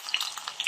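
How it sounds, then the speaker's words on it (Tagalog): Thinly sliced pork fries in a hot pan, giving a brief, soft, crackly sizzle with a few small pops close by. "Ipiprito lang po natin. Hiniwa lang po natin to ng manipis."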